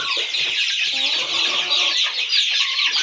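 Aseel chicken chicks on a poultry farm give a steady, dense chorus of high peeping and clucking, loud and close throughout with no talk.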